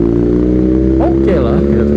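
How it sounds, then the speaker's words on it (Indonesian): A BMW R nineT motorcycle fitted with a Villan aftermarket exhaust runs close by with a loud, steady engine drone and a couple of quick throttle blips midway. "Intinya knalpot Ori lebih bulat suaranya, Villan lebih ngeblar, lebih cempreng"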